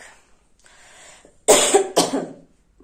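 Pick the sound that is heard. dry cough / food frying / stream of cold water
dry cough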